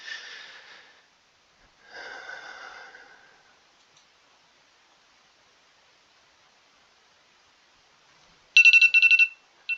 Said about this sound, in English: That's the alarm for the bus stop.